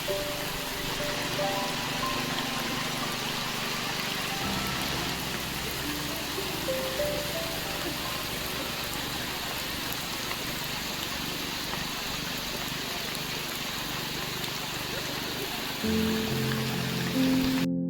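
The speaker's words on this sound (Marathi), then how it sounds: "रिमझिम रिमझिम पाऊस पडतोय" Light drizzle falls steadily on leaves and open ground in a rural village during rice planting season, a soft continuous patter. A low rumble swells briefly near the end.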